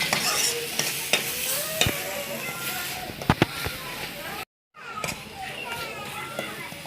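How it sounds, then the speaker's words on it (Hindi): A salted potato and dal mixture is stirred and sautéed in a pan, with a spoon scraping repeatedly over a soft sizzle, close up, while children's voices and chatter carry in the background. "उसके बाद में इसको भूनना है, अच्छा से चलाना है।"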